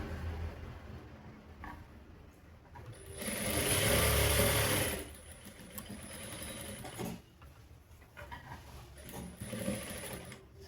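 A sewing machine stitches the side seam of a semi-kotori blouse during a tailoring class, running in a steady mechanical whir that rises to a louder burst midway, with quieter needle clatter before and after.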